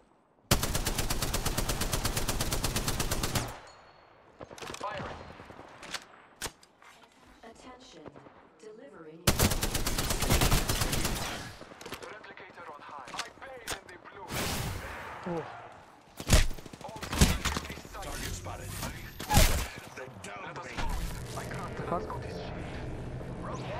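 Heavy gunfire in the Apex Legends video game: dense automatic bursts of several seconds, then sporadic single shots and short volleys, loud and close, with occasional talk.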